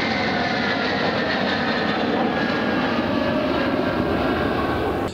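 Fixed-wing aircraft flying overhead at an aviation festival in Zhytomyr, a loud, steady engine drone that fills the whole stretch without pause.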